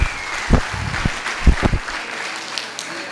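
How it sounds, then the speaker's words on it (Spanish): Scattered clapping from a small audience on a Latin radio show, a few loud individual claps that thin out and fade within a couple of seconds. "Un aplauso para Aida Merlano"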